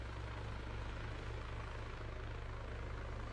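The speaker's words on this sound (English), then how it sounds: "It's a helicopter." A helicopter in the Arma 3 video game hums with a steady, low rotor throb and engine drone, faint but continuous throughout.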